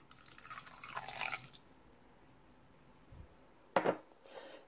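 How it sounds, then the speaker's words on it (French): Vinegar is poured by the tablespoon into a dish for a chicken marinade, with quiet liquid trickles and a few small clinks of the spoon, close up and faint. "Je vais ajouter 3 cuillères à soupe de vinaigre."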